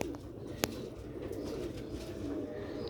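Pigeons coo softly in a low, rolling murmur against faint background noise, with a brief sharp click partway through.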